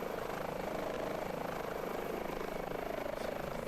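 Steady rotor and turbine drone of an H145 helicopter in Microsoft Flight Simulator, an air ambulance flight, continuous and fairly loud throughout with no talk over it.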